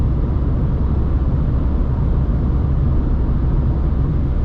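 Steady broadband wind rush around the side mirror and A-pillar of a 2023 Dacia Sandero Stepway 1.0 TCe 90 HP at highway speed, a continuous loud cabin roar with deep low rumble, no talk.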